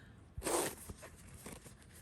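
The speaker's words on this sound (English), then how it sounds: "The zipper unzips nice and smoothly" A single quick zipper pull on a Pandora jewelry box rasps close by, followed by softer scraping and small handling noises.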